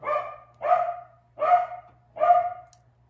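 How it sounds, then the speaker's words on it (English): A dog barks indoors, four loud, evenly spaced barks in a row with a steady low hum underneath and no talking. "my dog thinks somebody's here. So that's why he's barking."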